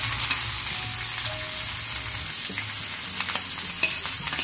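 Onion fries in oil for a chutney, giving a dense continuous sizzle with intermittent stirring scrapes, close and fairly loud throughout.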